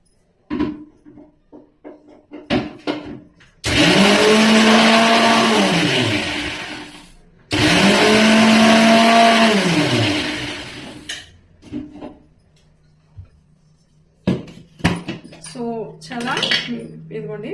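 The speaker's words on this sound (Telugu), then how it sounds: "మిక్సీకి వేసేద్దాం" A mixer grinder blends sauce for veg Manchurian in two long, loud whirring bursts separated by a short pause, with utensil clatter and kitchen handling before and after.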